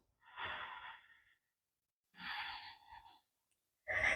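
Slow, audible breaths during a hatha yoga strengthening session: two long exhalations a couple of seconds apart, then the start of another, close and fairly soft, with no talking.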